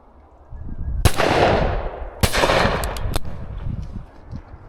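Three sharp shotgun shots during a bird and hare hunt outdoors, the first two loud with long rolling echoes, the third quicker and fainter, over a rustling field background.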